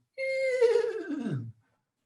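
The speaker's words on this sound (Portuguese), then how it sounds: "um relinchar lá longe" A single horse whinny, a clear, fairly close neigh lasting over a second that starts high and slides downward before stopping, alone against silence.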